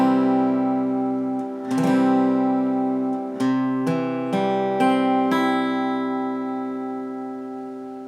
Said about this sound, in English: another chord that I've been warning you about, and that chord is C